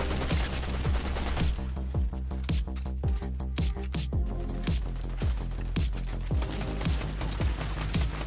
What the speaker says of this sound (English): Shots coming in from every angle again